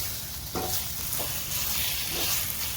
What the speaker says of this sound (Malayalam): നമുക്ക് എടുത്തു വെച്ചിരിക്കുന്ന ചിക്കൻ ഇതിലേക്ക് ചേർത്ത് വെക്കാം. ഇത് മസാലയെല്ലാം ഇതിൽ നന്നായി ഒന്ന് മിക്സാക്കാം.